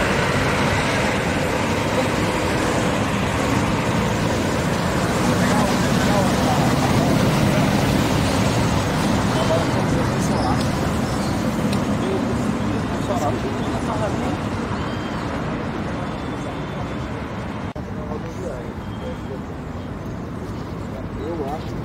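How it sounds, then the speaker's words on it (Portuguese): Via Goiás coach pulling out of the Tietê bus station in São Paulo, a long steady engine rumble with a loud, busy wash of terminal noise around it that eases off slightly near the end. "Buscazão da Via Goiás saindo aí."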